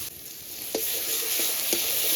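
Ginger-garlic paste sautéing with browned fried onions for a Bengali prawn malai curry, giving a steady bright sizzle with a few soft scrapes of stirring spaced through the short stretch.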